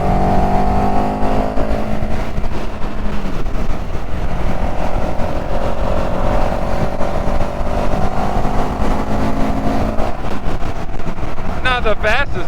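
CFMOTO CLX 700 motorcycle rolling on the throttle in fourth gear at mid-range RPM, a continuous engine hum with shifting pitch and wind rush, and a brief higher whine near the end.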